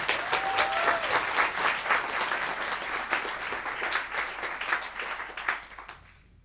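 Applause from a concert audience for a pianist, a dense wash of many hands clapping loudly and steadily for several seconds before tapering off at the end.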